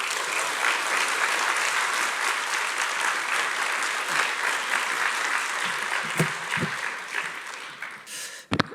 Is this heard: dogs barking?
no